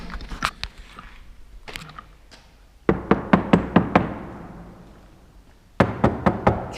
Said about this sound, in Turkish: Uf sese bak. Tok kapı sesi kanki.